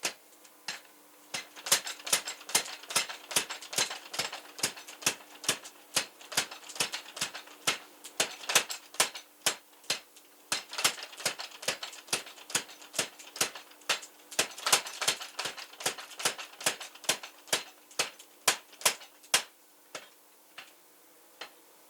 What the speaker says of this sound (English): we're hammering that piece of cable into a solid block of steel